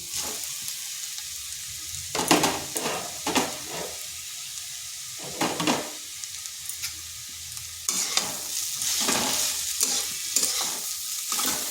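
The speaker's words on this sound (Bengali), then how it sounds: "রুটিগুলো ভালো করে মিশিয়ে নিচ্ছি।" Torn roti pieces stirred and fried with vegetables in a pan, soft sizzling broken by bursts of spatula scraping and tossing, close and intermittent throughout.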